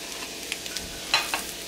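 Brioche French toast frying in a pan, a soft steady sizzle broken by a few light scrapes and taps, close and fairly quiet with no talking.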